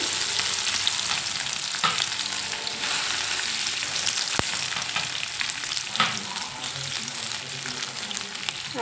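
Chili, garlic and curry leaves fry in hot oil in a pan with a loud, continuous crackling sizzle, broken by a few sharp spatters and stirring sounds, with no talking.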